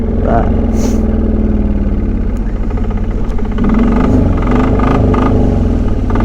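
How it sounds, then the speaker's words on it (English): A 1999 Polaris 455 single-cylinder diesel utility vehicle engine chugs loudly and continuously with a rough, throbbing drone, heard up close while the vehicle is driven. "it's a small single cylinder diesel, very noisy. You know, compared to a gas machine, this thing is very loud."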